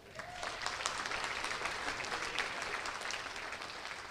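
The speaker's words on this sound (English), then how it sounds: "So give yourselves a round of applause." High school hackathon participants applaud themselves at an awards ceremony, a full, even burst of many hands clapping that holds steady throughout, with no voices over it.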